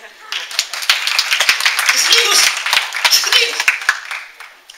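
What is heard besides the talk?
congregation clapping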